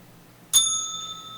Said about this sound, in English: That deserves a double bell ring